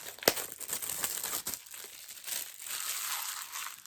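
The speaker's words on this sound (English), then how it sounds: "as I'm struggling to get the plastic off" Plastic wrap crinkles and tears as it is pulled off a Blu-ray case, with irregular close-up crackling, a few sharper snaps and ongoing rustling.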